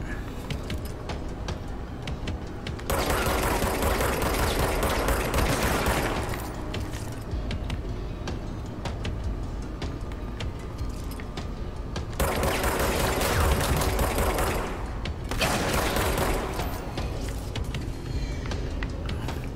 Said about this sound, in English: Stop throwing fucking grenades at me.